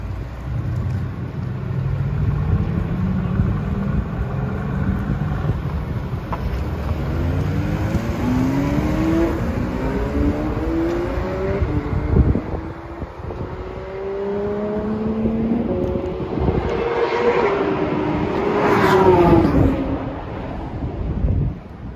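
Bright plucked ukulele A chord strummed repeatedly in a steady rhythm, ringing out clearly and close, with no voices.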